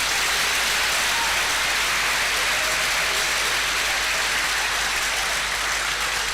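Sustained audience applause at a university lecture in Nigeria, a dense steady wash of many hands clapping throughout, fairly distant and even with no voices.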